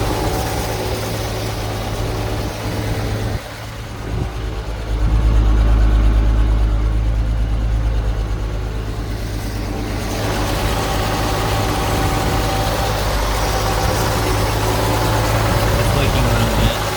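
A 1974 Ford farm-find engine idling just after starting, a loud steady rumble with a deeper surge partway through and faint voices over it.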